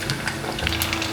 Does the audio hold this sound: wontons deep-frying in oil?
yes